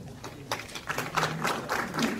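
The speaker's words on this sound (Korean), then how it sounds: "큰 박수를 맞이해 주시기 바랍니다." Applause from the audience at a Hwaseong citizens' regional meeting rolls on steadily for a couple of seconds, a dense mid-level patter of many hands filling the hall.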